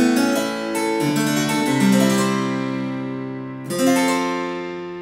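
A harpsichord played on its principal register, with bright plucked notes and chords that ring and decay, a fresh strike after a pause near the end, solo and close.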